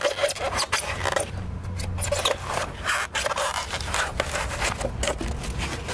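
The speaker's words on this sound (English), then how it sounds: "Normal keyhole saw will work also too." A keyhole saw cuts through a Polyblock building block, making rapid, rhythmic rasping strokes back and forth, close and continuous.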